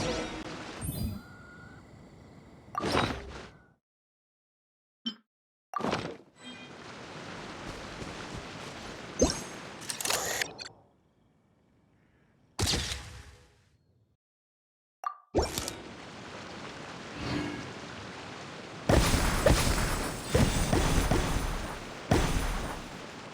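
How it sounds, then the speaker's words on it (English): Fireworks going off in Genshin Impact during a Mondstadt event, a series of sharp bursts and crackling pops separated by short silences, building to a dense, loud barrage near the end. "Fireworks!"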